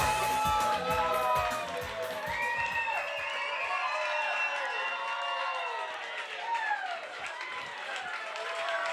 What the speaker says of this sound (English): A round of applause for the newlyweds.